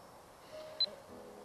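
A timer being programmed gives a single short, high beep, quiet and brief, over a low steady background hum.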